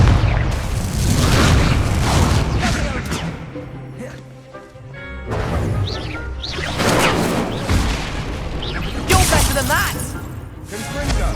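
Confringo blast spells in Hogwarts Legacy during Merlin's Trials, loud booming crashes and shattering bursts mixed with whooshes, arriving in repeated waves.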